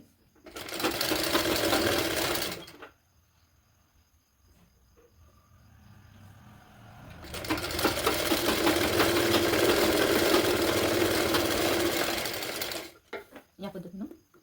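Sewing machine stitching three fabric strips together onto a blouse, in two long runs of steady, rapid mechanical whirring with a quiet pause between them and a few short bursts at the end.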